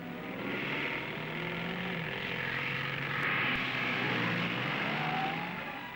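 2-litre sports cars, including a Triumph TR2, race in handicapped groups at a 1955 rally circuit event, engines droning steadily from a distance and swelling as the cars pass, with no voices.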